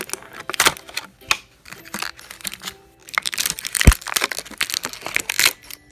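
Scissors cutting open plastic toy packaging for a Littlest Pet Shop figure, giving close crinkling, crunching and snipping bursts in irregular clusters, with no talking.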